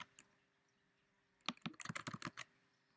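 Someone types on a computer keyboard in a burst of quick, close clicks with a short pause, quiet and without talk.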